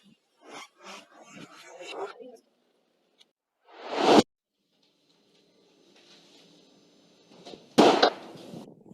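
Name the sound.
gunshot in a dramatized active shooter scene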